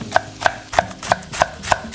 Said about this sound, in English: We cut small pieces with a sharp knife.